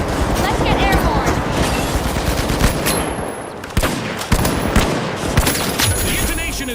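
Gunfire and a frag grenade blast in a video game firefight, loud rapid bursts of automatic shots with sharp booms near the middle, with a voice talking over the action.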